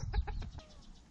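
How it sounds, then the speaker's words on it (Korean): Hens and chicks on a farm cluck and peep in a few short quiet calls over low rustling, fairly close and alone. "그리고 암탉들과 병아리들도 놀부에게 의지한 듯 편안하게 먹이 활동을 한다."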